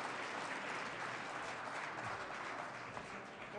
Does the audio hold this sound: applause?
yes